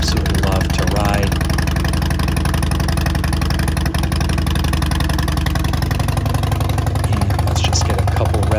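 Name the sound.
motorcycle engine idling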